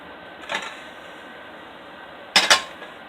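Onions tipped into a pan with organic olive oil for jambalaya, heard as two short, close clattering bursts separated by a quiet gap.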